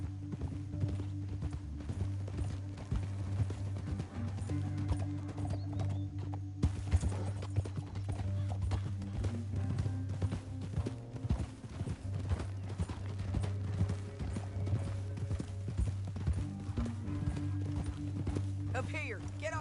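Horse hooves clip-clop at a gallop in the video game Red Dead Redemption 2, a steady rhythmic drumming that runs throughout under spoken dialogue and game sounds, with occasional whinnies.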